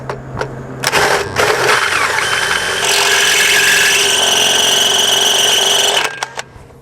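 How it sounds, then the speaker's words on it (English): A power drill with a step bit whines and grinds steadily, enlarging a pilot hole toward about half an inch, starting with a few short bursts before the sustained cut, then spinning down. "I went ahead and already drilled a pilot hole, and I got this little step bit."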